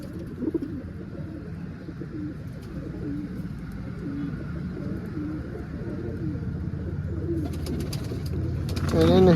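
Pigeons cooing in a loft, a continuous overlapping stream of soft, nearby coos with a faint background hum.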